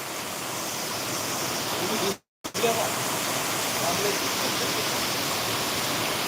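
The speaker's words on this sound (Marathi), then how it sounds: "आता हा पहिला पाऊस आहे" Heavy first-of-season rain pours down in Sangrampur, a dense steady roar of falling water broken by one brief gap, with people talking underneath.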